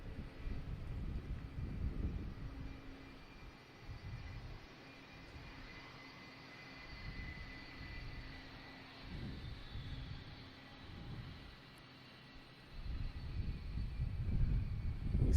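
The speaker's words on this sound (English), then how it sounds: "Oh, we have a Virgin Atlantic coming in, flight 157 from London Heathrow." Virgin Atlantic Airbus A330-900 jet airliner comes in to land at Boston Logan Airport, a faint, distant engine rumble that rises and falls under gusty wind buffeting the microphone.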